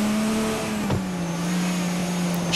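An Audi R18 race car in the Forza 4 video game holds a steady, droning engine tone with a brief dip and recovery partway through, loud and continuous with no talk.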